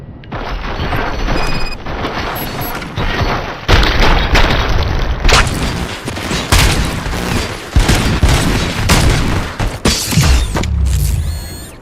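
Gunfire and explosions in the RoboCop: Rogue City video game on Xbox Series S, loud booming shots and bursts repeating irregularly through a chaotic firefight with crashing impacts.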